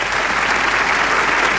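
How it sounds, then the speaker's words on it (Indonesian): A studio audience on the Indonesian dating show Take Me Out Indonesia bursts into applause, with thick, loud clapping sustained evenly throughout the short moment. "Beri tepuk tangan dulu, ini bagus"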